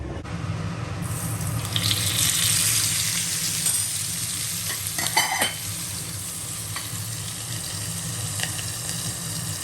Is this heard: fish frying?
yes